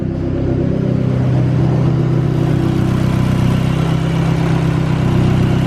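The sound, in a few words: Nissan 300ZX Z32 engine revving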